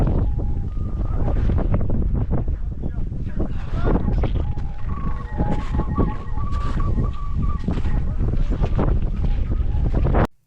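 Strong mountain wind on the Kedarkantha winter trek roars and buffets the microphone without a break for ten seconds, loud and close, with a faint voice partly buried in the gusts.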